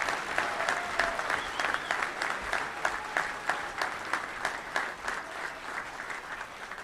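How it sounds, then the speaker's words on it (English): A crowd at a touchdown club luncheon applauds an award winner, steady clapping with a lively pulsing rhythm that continues unbroken and fairly loud throughout. "let's give a big round of applause for Dennis Gaines"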